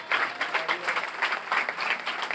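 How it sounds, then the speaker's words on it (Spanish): A church congregation claps together during a sermon, dense rapid applause that pulses in uneven waves and holds at moderate loudness for a couple of seconds. "Denle un aplauso al Señor."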